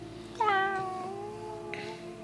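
A person imitates a cat's meow with a single drawn-out, rising-then-falling mew that trails off, fairly close against quiet room noise, with a soft second sound near the end.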